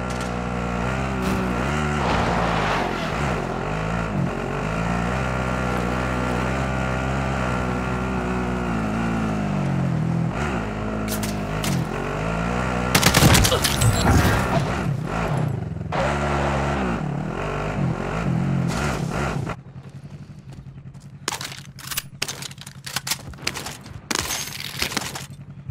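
In Call of Duty Modern Warfare, a vehicle's engine drones loudly and steadily while being driven, with a sharp crash-like burst midway; the engine then drops away, leaving sparse clatter and short impacts.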